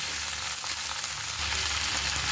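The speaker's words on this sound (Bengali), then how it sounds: "এবার সব সবজিগুলো একটু নাড়াচাড়া করে নিব।" Mixed vegetables frying in a pan while being stirred, heard as a steady, close broadband sizzle with faint stirring texture and no distinct strikes.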